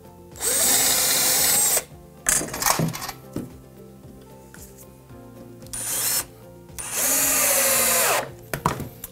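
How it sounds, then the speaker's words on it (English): A power drill drives screws into a pallet-wood chair: several loud, close whirring bursts of one to two seconds each, separated by quiet gaps with clicks, knocks and handling noise. "Drive your screw in to hold it into position."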